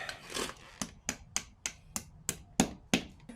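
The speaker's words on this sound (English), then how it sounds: "I'm going to hammer them into place real quick." A series of about ten sharp metallic taps in quick, fairly even succession, close by, a small hammer striking small bolts into place on a Beta 390 RR-S motorcycle tail tidy.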